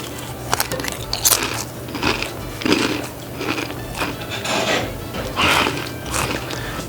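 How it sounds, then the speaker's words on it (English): A person chews noisily up close, with crisp, crunchy bites and wet mouth sounds repeating in an uneven rhythm. "the way people chew"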